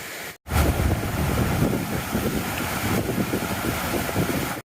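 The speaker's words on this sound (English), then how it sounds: "I can hear the water." Broadband rushing water from a river near the Pleasant River Ford on a hiking trail, loud and steady after a brief gap at the start, mixed with wind buffeting the microphone.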